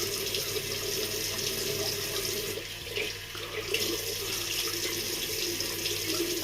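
A bathroom tap runs steadily into a sink while a face is wetted, a continuous close rush of water with a brief dip in the flow midway.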